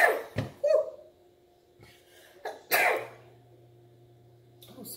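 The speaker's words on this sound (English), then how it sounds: "I knew I was going to be sneezing in a minute." A single sharp sneeze bursts out near the start, followed by a few smaller breathy catches and a throat sound, all close and alone against a quiet kitchen background with a faint steady hum.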